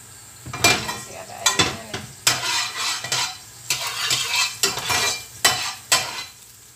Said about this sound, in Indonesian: kalau sudah panas wajannya kita masukin minyak